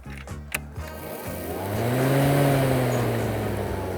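A Dnipro-m 20V cordless lawn mower gives a few mechanical clicks, then its electric motor whirs up and settles into a steady, fairly close hum.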